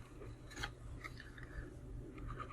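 Paper rustles and scrapes as the top flap of a small paper pencil box is folded over, a steady close crinkling and rubbing with a few brighter crisp peaks, no voices.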